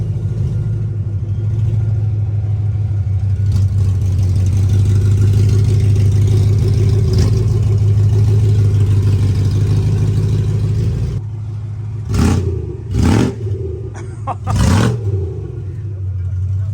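A cold BMW E90 M3 V8 running on open headers with no exhaust rumbles loudly and deeply at idle, then cracks out several sharp, blaring revs near the end.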